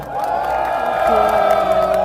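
Rally crowd at a Korean political stage event cheering and whooping in a sustained, loud wash of voices, with no clear individual words.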